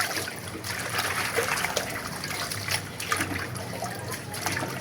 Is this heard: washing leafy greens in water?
yes